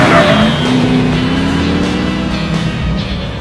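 A Mazda MX-5 ND fitted with a 525 hp V8 engine drives along, its engine droning loud and steady with a rising pitch as it pulls through the gears, heard from close by.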